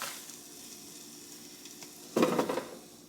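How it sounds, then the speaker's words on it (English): Bacon hitting the hot basket of a preheated Kyvol AF60 halogen air fryer, a brief faint hiss giving way to a sudden louder burst of sizzle near the end, with no talking. "This is preheated, so we'll just add some bacon in there."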